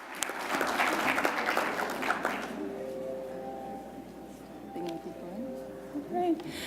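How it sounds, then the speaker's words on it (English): Audience applause at a healthcare conference opening session, a burst of clapping in the first few seconds that fades into room murmur and a voice. "let's give Generali a big round of applause"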